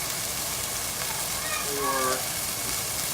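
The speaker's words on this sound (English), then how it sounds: "There's that sizzle." Beef medallions sear in a hot pan with a steady, close hiss of frying fat, while someone speaks briefly over the sizzle.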